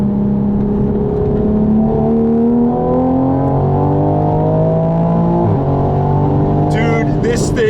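A 2020 Toyota Supra's B58 engine with its 8-speed automatic revs loud and close, pitch sweeping as it pulls down from fourth gear, with a downshift blip and a few sharp crackling pops near the end.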